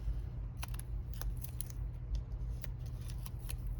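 Scissors snip through paper at a crafting table for card making, a run of short crisp cuts in an uneven rhythm, close and fairly quiet over a low steady hum.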